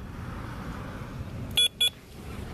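Two quick electronic beeps from a carp fishing bite alarm on the bank cut through steady outdoor background noise, sounding close and sharp.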